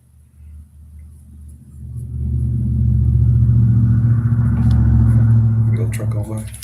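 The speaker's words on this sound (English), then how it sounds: "Go truck on by." A heavy truck rumbles past outdoors, its low engine drone swelling from faint to loud and holding steady as it passes nearby.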